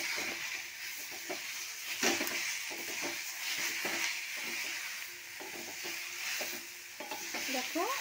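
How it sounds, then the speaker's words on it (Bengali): Beetroot frying in a pan while being stirred, a soft continuous sizzle broken by repeated scraping and knocking of a spatula, fairly quiet and without speech. "ভালো করে নাড়া দেবো, যাতে পুড়ে না যায়।"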